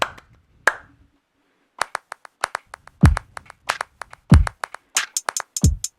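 Crisp MPC drum machine hand-clap samples in a quick rhythmic pattern, several hits doubled by a fast flamenco-style second clap, with occasional deep kick-like thumps underneath.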